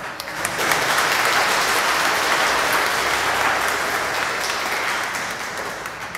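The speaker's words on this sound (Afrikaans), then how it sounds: "kan ons vir hulle hande klap?" Congregation applauding at a Christmas carol service, a full, even wash of many hands clapping that swells in quickly, holds steady for several seconds and tapers off gently.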